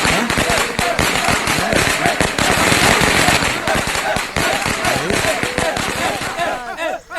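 A long, rapid string of firecrackers bursting close by, sharp cracks tumbling over one another almost nonstop before tapering off at the end.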